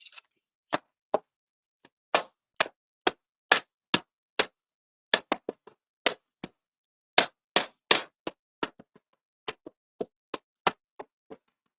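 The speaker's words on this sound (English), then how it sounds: "this is the sound of me slapping your buns with a fly swatter" Sharp, dry slaps of a fly swatter repeat at an uneven pace, alone against silence, some landing in quick doubles and triples.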